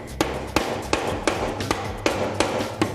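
A hammer drives a nail into a wooden skirting board in about eight sharp, evenly spaced strikes, each a crisp close knock over a low background hum.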